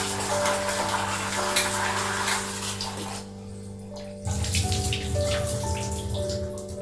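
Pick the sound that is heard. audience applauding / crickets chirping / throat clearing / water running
water running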